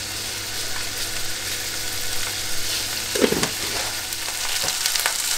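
A pan of filling with tomato paste and sugar sizzles steadily while being stirred, with a couple of louder scraping knocks of the spoon partway through.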